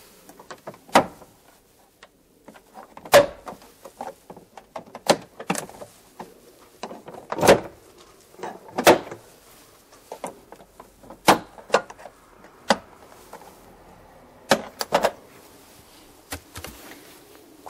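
Plastic trim clips snap and pop as the upper back door trim panel is pried off a 30-series late-model Toyota Vellfire, sharp irregular cracks and clicks spread across a quiet background.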